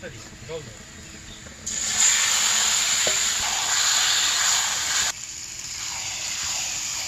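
Raw beef hits a pan of deeply fried, browned onions and bursts into a loud, steady sizzle that holds for a few seconds, then abruptly drops back to a quieter background fry.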